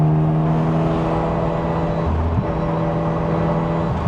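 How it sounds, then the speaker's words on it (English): A Mazda RX-7 turbo engine droning steadily from inside the car while driving, a loud continuous rumble with a sustained tone that dips briefly in pitch before returning. "The turbo noises are sick"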